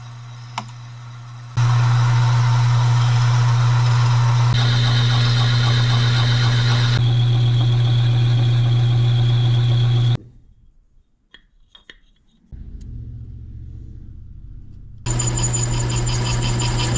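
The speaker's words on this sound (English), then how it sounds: "This is a South Bend lathe built in 1936" A 1936 South Bend lathe runs with a steady loud motor hum and whine, changing tone in stages, briefly dropping to near quiet before spinning back up.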